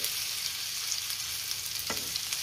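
Raw grated potato and gram flour (besan) pancakes fry in hot oil in small rounds, giving an even, continuous bright sizzling hiss, close by and steady, with one brief scrape partway through.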